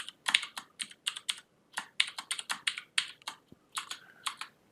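Rapid, uneven bursts of keystrokes on a computer keyboard while Python code is typed, close and crisp, with short pauses between runs of clicks and no talking.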